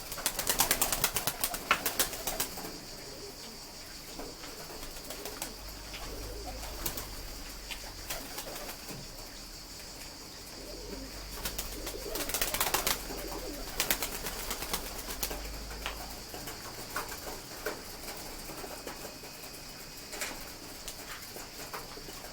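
Pigeons cooing and flapping their wings as they fly up onto an awning, with bursts of wingbeats rising over a steady outdoor background.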